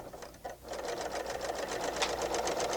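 A Bernina L890 serger stitches fabric with a fast, steady mechanical whir and rapid needle clatter, starting after a brief pause and running continuously close by.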